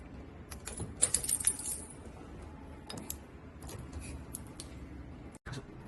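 Metallic jangling of a key being pulled from the power cord of a cotton candy machine, a bright cluster of clinks up close followed by lighter scattered rattles and a brief pause.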